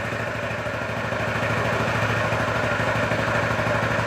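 A faulty, neglected moped engine runs close by with a steady, buzzing, rattly drone that holds at an even level throughout, and no voices.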